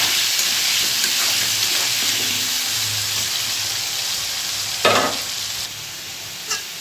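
Potatoes fry in hot oil with turmeric and salt, giving a steady loud sizzle, with occasional scraping strokes of a spatula stirring them and a sharper clatter near the end.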